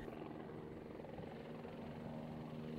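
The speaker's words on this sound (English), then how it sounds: "we made a reconnaissance of this mountain chain in a helicopter" A helicopter flies over the mountains of Haiti, its rotor giving a steady, fairly loud whirring thrum with a low engine drone that stays constant throughout.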